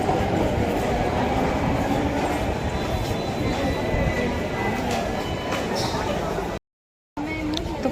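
A Delhi Metro train passing, a loud continuous rumble and clatter of rolling wagons that fills the scene and runs unbroken before a brief cut, with people talking underneath.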